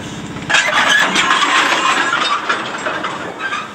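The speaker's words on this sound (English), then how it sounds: "this is a loco just with a load of tubs coming in behind the set of tubs" A small narrow-gauge locomotive at a limestone quarry approaches hauling rattling tubs, a loud clanking metallic rumble with scraping and knocking that continues steadily, close by.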